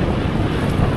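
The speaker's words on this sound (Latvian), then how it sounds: "Vējš no pakaļas." Steady wind rushing past the microphone while cycling with a tailwind on a long-distance ride, a continuous broadband roar that is loud and close with no voices.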